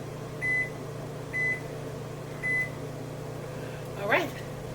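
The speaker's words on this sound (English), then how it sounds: "Timer." A kitchen timer beeps while English muffins bake: three short, evenly spaced high beeps sound over a steady appliance hum, followed by a brief rising warble near the end.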